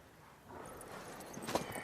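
Horse hooves clip-clop softly in the Witcher 3 video game, a faint, quiet patter of steps that builds slightly, with a brighter hoof strike near the end.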